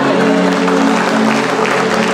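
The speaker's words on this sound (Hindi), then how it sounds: "जोरदार तालियां एक बार फिर से उनके लिए।" Audience clapping at an employee annual day celebration in a hall, a dense, loud, steady wash of applause for a couple of seconds with a voice faintly under it.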